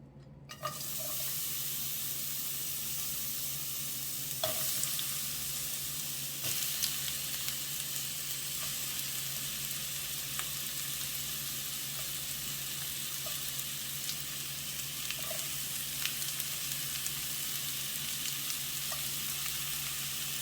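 Onions sizzle in heated olive oil in a pan, a steady hiss that runs throughout, with a few faint clinks and no talking.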